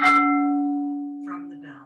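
A meditation bell is struck once during a workout and rings out in a long, reverberating tone that slowly fades, while a calm voice begins speaking softly over the lingering hum.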